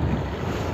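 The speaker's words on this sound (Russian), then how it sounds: "Ля, какой ветрело, вообще капец." Strong outdoor wind buffets the microphone in a loud, continuous roar beside a potato plot being worked with a walk-behind tractor, with no other sound standing out in the brief moment.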